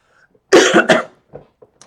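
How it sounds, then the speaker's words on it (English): A sharp, harsh cough bursts out in two quick hacks, followed by a few faint throaty sounds. "And now I am apparently coughing my lungs out."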